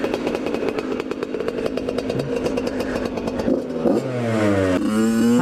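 A two-stroke dirt bike engine idles with a rattly buzz, then revs up in rising whines near the end, loud and close with no talking.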